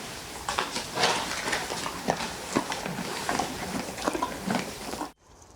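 Horses walk in a stable, hooves landing in an uneven clip-clop on a hard floor, fairly close over low background noise, ending abruptly in near silence.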